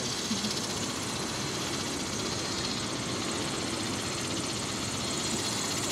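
A helicopter's engine and rotors run on the ground before take-off, a steady droning whir with a low rumble, heard from some distance and unbroken throughout.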